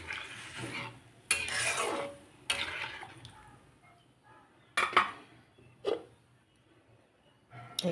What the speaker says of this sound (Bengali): ঢেকে দিচ্ছি।